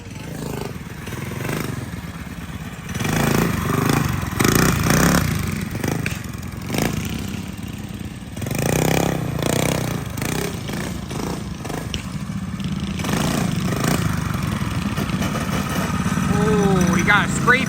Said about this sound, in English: So we're gonna rip some wheelies on the mini quad.